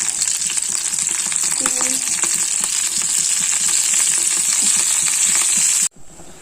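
Dried red chillies, curry leaves and shallots splutter in hot oil for a chow chow parippu curry, a loud continuous bright sizzle with scattered pops and crackles that cuts off abruptly near the end, no talking.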